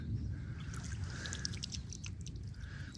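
Quiet water lapping and dribbling around a canoe, with soft paddle strokes in calm surroundings and a faint bird call.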